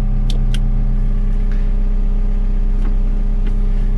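A bulldozer's engine idles steadily with a constant low hum and tonal drone throughout, a few faint clicks and knocks from the cab rising briefly above it.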